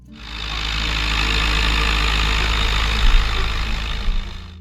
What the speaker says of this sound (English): The Massey Ferguson 175